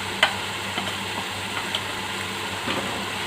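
Coriander and cumin powder masala frying in a pan for an egg white korma, a steady soft sizzle with a few faint stirring clicks, close and continuous with no talking.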